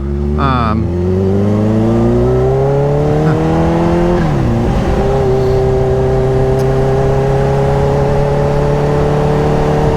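A powerful car engine runs loud and close, its pitch sweeping down early and then holding a steady drone with a brief dip midway, no talk over it.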